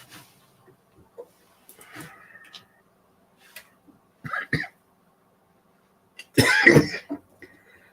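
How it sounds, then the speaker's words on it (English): Several short coughs and throat-clearing bursts from one person, scattered across the stretch with a louder, harsher coughing fit near the end, close to the microphone in an otherwise quiet room. "I still have a little bit of cough left over"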